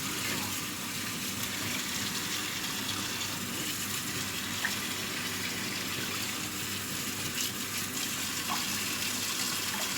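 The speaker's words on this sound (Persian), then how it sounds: "خب سبزیم آبکش کنم." Tap water gushes steadily and close up as fresh herbs are rinsed and drained in a home kitchen, a constant splashing flow with no talking.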